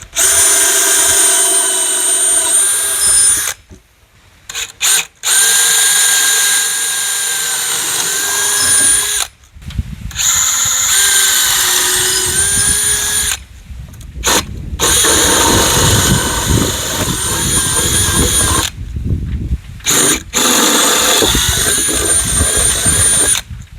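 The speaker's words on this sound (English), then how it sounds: "All right, let's drill these out." A power drill bores holes in wood while framing a root cellar entrance, with loud whining runs of several seconds each, separated by short pauses, recorded up close.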